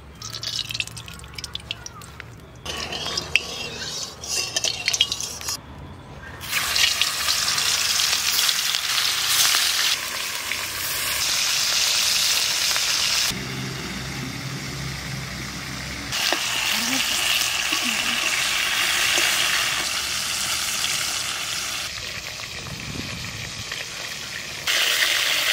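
Pieces of stingray fish rubbed with salt and turmeric fry in hot oil in a wok, a continuous loud sizzle and crackle that shifts in intensity as the pieces are stirred.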